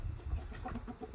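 Chickens cluck softly in short bursts, faint and brief against low background noise.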